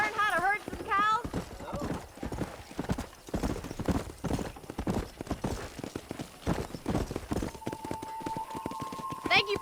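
Horse hooves clip-clop in a steady galloping rhythm in the Western video game Red Dead Redemption, with a whinny at the start, while people talk over the hoofbeats and a tone sounds near the end.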